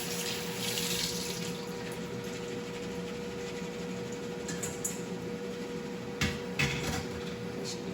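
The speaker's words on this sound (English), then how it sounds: "Just drain them, rinse them with water." Tap water runs steadily into a sink with a constant hiss while chickpeas are rinsed beneath it, with a couple of brief clinks near the end.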